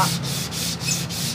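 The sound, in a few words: hand sanding acoustic guitar wood with sandpaper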